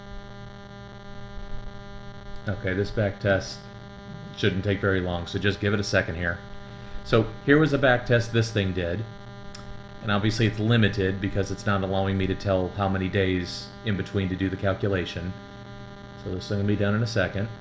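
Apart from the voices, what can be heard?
computer cooling fans humming on an Intel i7 PC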